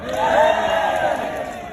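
A crowd at an anti-racism rally in Britain cheers and shouts together in a loud, sustained swell outdoors.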